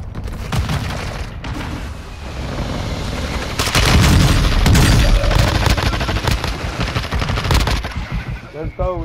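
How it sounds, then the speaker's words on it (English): Video game gunfire, rapid machine-gun bursts and repeated shots that grow louder and denser midway, while players talk and shout over the shooting. "y'all can just keep shooting. Keep shooting at him."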